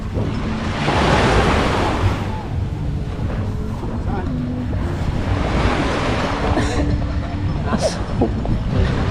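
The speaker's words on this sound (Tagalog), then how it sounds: "Hindi naglalaki yung alon dito sa Kalayo eh." Gentle sea waves wash in and out in soft, broad swells at Kalayo, with steady wind noise and faint voices in the background.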